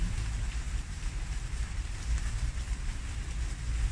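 Rain falling steadily on a small outdoor balcony, a dense, even patter with low rumbling undertone, moderately loud and continuous with no voices.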